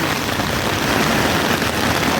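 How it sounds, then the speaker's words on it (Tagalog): A downpour of heavy rain hisses in a loud, uniform wash close by, continuous and unbroken for the whole moment. "Lakas ng ulan."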